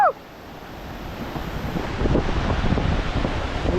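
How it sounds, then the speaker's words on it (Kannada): Strong wind buffets the microphone at Hebbe Waterfalls in Kemmangundi, Chikkamagaluru, a steady broadband roar that swells louder partway through and continues without speech. "ಫುಲ್ಲು ಗಾಳಿ ಹೊಡಿತಾ ಬಿದ್ದೈತಲ್ಲಿ."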